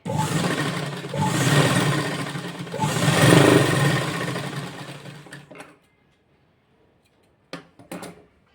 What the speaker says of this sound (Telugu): దీనిపైనే కుట్టుపడేటట్లు ఇంకో స్టిచ్ వేసుకోవాలి. అలానే ఇటువైపు కూడా ఒక స్టిచ్ వేసుకోవాలి.